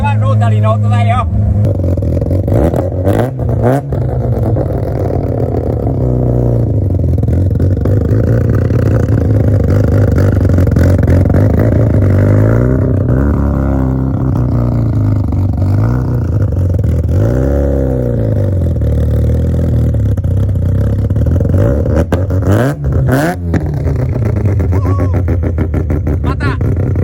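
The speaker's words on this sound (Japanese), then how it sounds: "これはロータリーの音だよ。" A Mazda RX-7 FC with a 13B bridgeport rotary engine revs loud and close, its low harmonic drone rising and falling in repeated swells over nearly half a minute, with a voice talking over it.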